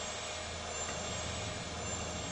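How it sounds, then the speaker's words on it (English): Jet engines at reduced power during takeoff, heard on a cockpit flight recorder of a Florida airliner in snowy conditions, a steady droning roar with high whine, continuous and muffled, without speech. "Those engines sure ain't at full power."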